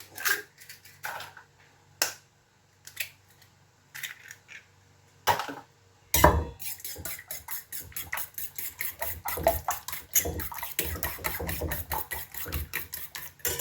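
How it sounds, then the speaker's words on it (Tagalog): Two eggs being beaten in a bowl for an eggplant and minced pork omelette: scattered clinks at first, then a fast, steady run of close utensil taps against the bowl, with no talking. "Patihin natin dito ang 2 itlog"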